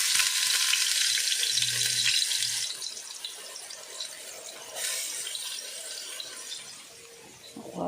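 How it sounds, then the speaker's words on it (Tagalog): Mussels (tahong) are sautéed in a pan in a home kitchen, starting with a loud, close, hissing sizzle that eases into a quieter, steady frying noise with faint stirring clatter and brief splashes of water. "gisin na natin yung tahong"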